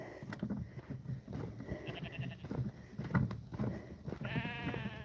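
Sheep and lambs bleat repeatedly on a farm at feeding time, with overlapping calls at varying distances over a busy background of shuffling and movement, and one long, clear bleat near the end.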